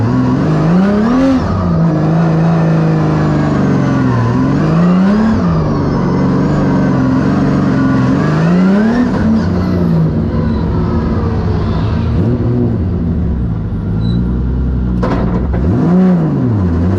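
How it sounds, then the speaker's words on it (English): A Formula Drift car with nitrous engaged, its engine revving and accelerating loudly and up close in repeated rising and falling sweeps, with no talk. "But I'm turning the nitrous on next one."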